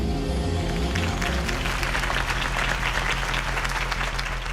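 Crowd applause from a political campaign rally in the video game Batman: The Telltale Series, a steady wash of clapping that swells and holds at moderate volume for several seconds, with no speech over it.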